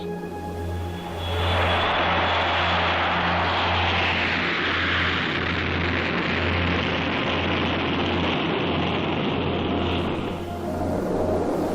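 North American XB-70 Valkyrie bomber at Mach 1.6 with throttles advanced, its jet engines producing a loud, continuous, broadband roar that swells and holds steady before easing slightly.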